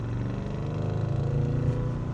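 A BMW M850i Gran Coupé G16, tuned to 693 hp, revs its engine with a steady deep rumble. The tone is held close and even, and a slight swell in pitch comes near the end.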